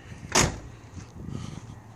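The door of a 1973 Chevy Caprice hardtop with a 400 engine is shut with one solid, close thump, then quiet background.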